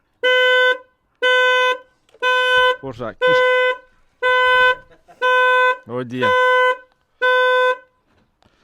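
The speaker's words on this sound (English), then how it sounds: "So the alarm goes off." A Rover 75 car alarm blares in repeated rhythmic electronic honks, close and loud, while a person speaks briefly between the blasts.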